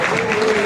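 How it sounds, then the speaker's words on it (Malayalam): Audience clapping at a village community fundraising gathering, a steady continuous wash of hands filling a short moment with no gaps. "എല്ലാവരും ഒന്ന് കൈയടിക്കും"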